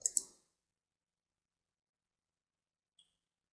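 Two quick computer mouse clicks sound close together at the start while working in CAD software on a 3D part, followed by near silence and one faint tick about three seconds later.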